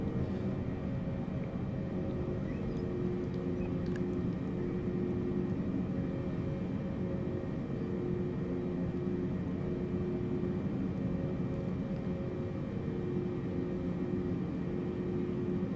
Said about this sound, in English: Okay, taxiing to around about 30 knots now.